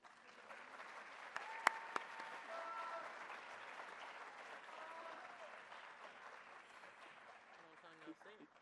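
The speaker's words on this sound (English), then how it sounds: "Now you may applaud." An audience claps steadily for several seconds at a high school senior awards ceremony, a moderate, even applause heard from within the room, with a few sharp knocks and faint voices.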